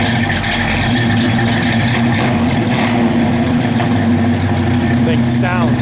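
A 1969 Chevrolet C10 pickup engine runs steadily with a deep, loud rumble that rises slightly as it is revved, heard up close throughout.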